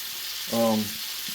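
Pheasant back mushrooms fry in a hot pan with a steady hiss of sizzling oil and a short tonal sound partway through.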